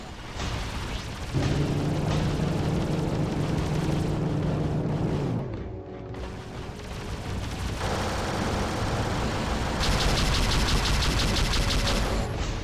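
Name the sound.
turret fire and explosions in the video game Freelancer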